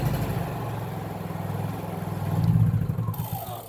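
A BMW S1000RR motorcycle engine turns over and catches on choke, a low rumbling idle with clattery pulses that swells briefly near the end, heard close and without talk.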